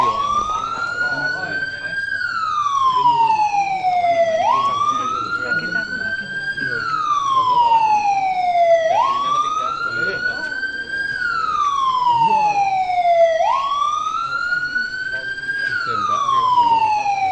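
A warning siren at an andesite stone quarry sounds its third pre-blast alert, a loud wailing tone that rises and falls in long repeating sweeps, steady and close with faint background noise beneath.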